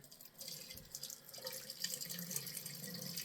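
Tap water runs into a sink while a boar shaving brush is rinsed, a soft, close, uneven splashing and trickling that holds steady throughout without speech.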